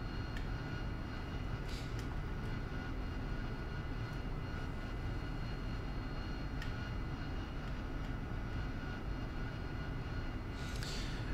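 Harrier AV-8B jet taxiing on an airfield in the DCS flight simulator, a steady loud broadband engine roar and whine that holds constant throughout, with faint clicks on top.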